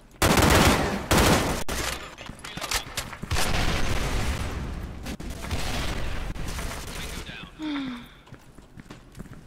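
Bursts of gunfire from the video game Special Force 2 crack in rapid clusters, some loud and some softer, with a player talking over the shooting.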